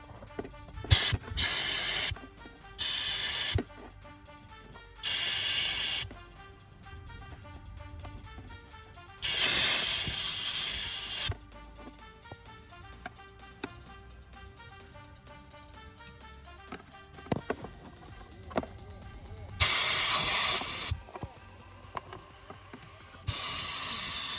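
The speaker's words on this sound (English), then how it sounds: "So I'm gonna go ahead and just blow it out" Portable air compressor nozzle blowing out a cabin air filter from a 2007 Suburban, loud hissing bursts of varying length repeated about seven times, separated by quieter handling and rustling, close by with no talk.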